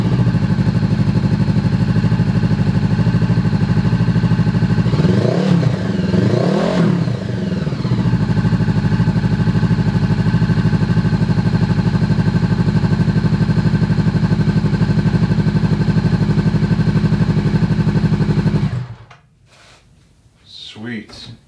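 A Honda CB500F scrambler motorcycle engine idles and revs loudly and steadily throughout, with a rising-and-falling rev burst early on, before it cuts off near the end.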